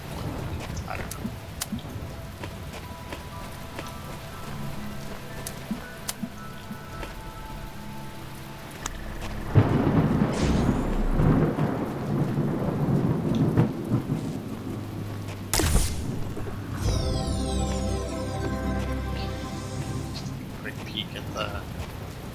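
Rain hisses steadily in The Talos Principle while heavy thunder rolls and cracks midway, with a brighter burst later and assorted game tones layered over the downpour.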